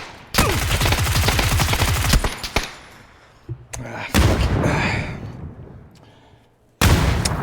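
Bursts of rapid automatic gunfire in the video game PUBG come loud and close, with a long rattling volley followed by scattered single shots, separate sharp cracks and a final burst.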